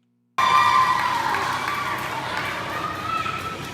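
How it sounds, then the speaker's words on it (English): Wrestling crowd at a CWG show cheering and roaring in response to a chokeslam setup, a sudden loud burst of many voices that holds steady and slowly eases, with talk mixed in. "Crowd's responding to it."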